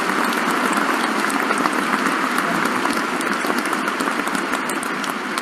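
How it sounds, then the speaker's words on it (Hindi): Dense, steady applause from a large crowd, loud and continuous throughout with no voices standing out. "तालियों के गड़गड़ाहट के साथ स्वागत करें"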